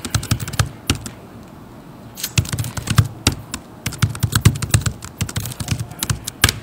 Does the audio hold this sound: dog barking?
no